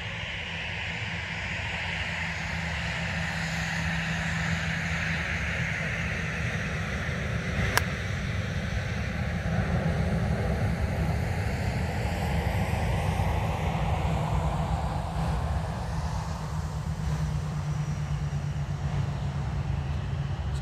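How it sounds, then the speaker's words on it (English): A Ryanair Boeing 737 airliner taxis past a golf course, its engines producing a steady, broad jet roar and whine that holds at a constant level throughout, with no voices. "Excuse the noise, a Ryanair 737 just decided to taxi past."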